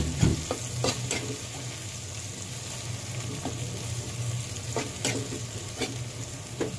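Bagoong isda, a fish paste, fries in a pan with crushed tomato under a steady, soft sizzle, broken by occasional scraping clicks of stirring.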